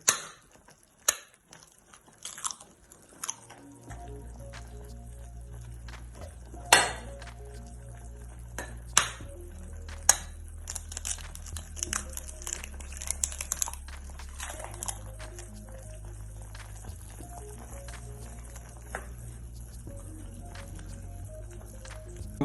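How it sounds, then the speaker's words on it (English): Two eggs cracked while cooking ramen make a few sharp clinks and taps against a hard edge, standing out briefly over a steady low hum from the stove or pot. "I'm going to go ahead and break 2 eggs"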